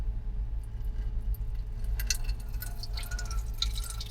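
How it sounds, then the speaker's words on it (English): Water trickles and splashes faintly into a newly installed campervan sink over a low steady hum, with small irregular drips and spatters. "I'm going to pour water on the side and go"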